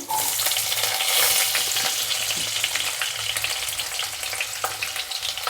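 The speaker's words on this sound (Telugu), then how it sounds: "కొద్దిగా కరివేపాకు బాగా వేగుతున్నాయి కదా" Onions, garlic and curry leaves fry hard in hot oil for a carrot, pea and potato curry, giving a continuous loud sizzle with occasional stirring scrapes and no talking.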